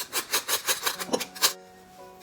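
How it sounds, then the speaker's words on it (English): Whole nutmeg scraped against a kitchen grater in a quick rhythmic series of about eight rasping strokes, close and fairly loud, then stopping into quiet. "And we're going to grate this nutmeg."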